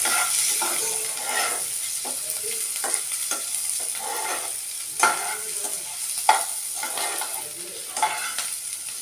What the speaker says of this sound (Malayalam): പച്ചമുളക് ഇട്ടതിന് ശേഷം നല്ലോണം സവോള വരുത്തിയെടുക്കുക